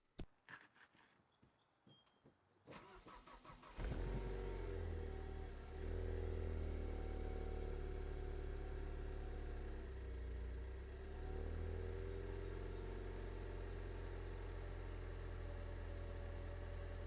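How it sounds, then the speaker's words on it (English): Ford Focus ST with stock exhaust cold starting: a short crank followed by a steady, fairly quiet high idle that holds for over ten seconds, heard alone without talk. "I'm going to get a cold start of the stock exhaust"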